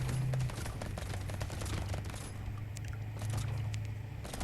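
Rapid turret fire in the video game Brotato, a dense continuous crackle of shots layered with a low droning hum, steady and busy throughout.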